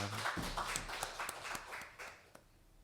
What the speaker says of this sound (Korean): 우리 하나님께 영광의 박수를 올려드립시다.